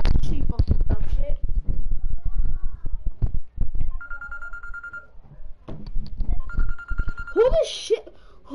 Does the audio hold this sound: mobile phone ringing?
yes